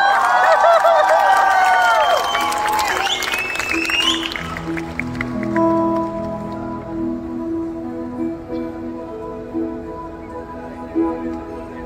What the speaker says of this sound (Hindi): और थोड़ी बहुत तालियां मेरे लिए भी।